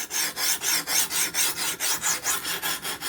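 Knife blade drawn in full-length strokes across a worn 80 grit Ruixin Pro diamond stone, about a dozen even rasping passes in steady rhythm, close and moderately loud with no talking.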